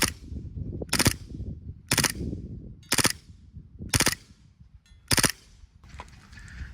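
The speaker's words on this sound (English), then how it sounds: "let's try a little full auto" An airsoft pistol fired on full auto in six short, sharp bursts spaced about a second apart, each a crisp rattling volley that stands alone against quiet background noise.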